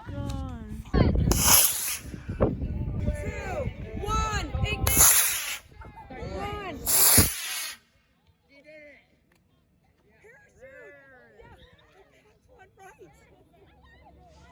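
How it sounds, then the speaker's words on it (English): Model rockets of various sizes from a simple kit launch outdoors, giving three short, loud hissing whooshes in the first half while several people talk and call out. Quieter murmuring follows. "today we're outside launching rockets of various sizes to show what we could do with just a simple model rocket kit"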